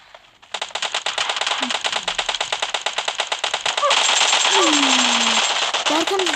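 Rapid automatic gunfire in the PUBG Mobile video game rattles in long loud bursts, first as fast clattering shots and then as a dense continuous volley, with a voice briefly heard over it.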